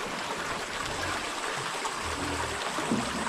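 A shallow creek flows steadily past a farm where geese stray, making a continuous, even rushing murmur with no voices.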